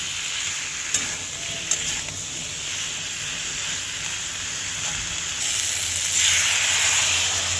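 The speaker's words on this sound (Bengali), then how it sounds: "ভালো করে কষিয়ে নিয়েছি আমি।" Jackfruit, potato and drumstick curry stir-fries in a pan, giving a continuous hiss of sizzling with a few sharp spatula knocks and the sizzle swelling louder near the end.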